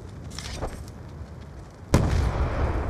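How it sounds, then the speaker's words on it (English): A grenade goes off in the video game Black Ops 2 with a sudden, loud, sharp boom followed by a rumbling, noisy decay, after a stretch of busy low game noise. "Oh wow, he had a grenade."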